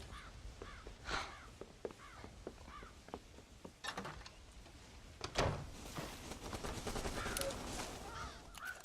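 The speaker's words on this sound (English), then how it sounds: "God damn crows!" Crows caw repeatedly over a cornfield in the Red Dead Redemption video game, scattered harsh calls mixed with sharp cracking gunshots and a steady outdoor ambience.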